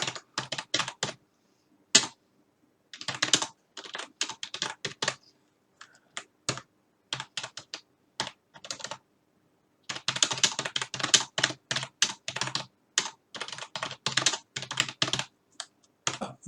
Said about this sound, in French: Vous pouvez envoyer ici et écrire un petit bonjour à Gordon.